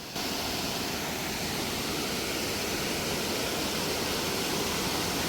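Waterfall in Vermont pouring over a river overhang, a steady, broadband rushing roar that stays constant and close with no other sounds.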